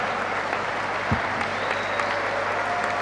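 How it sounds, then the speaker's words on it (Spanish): Steady crowd applause at a political rally in Rosario, Argentina, a dense even wash of clapping from a large gathering of over a thousand people, fairly loud and continuous throughout with no speech over it. "Fuertes aplausos, compañeros y compañeras"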